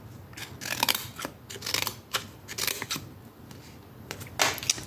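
Scissors snip repeatedly at close range, a run of sharp crisp clicks in an uneven rhythm, some in quick pairs, with no talking.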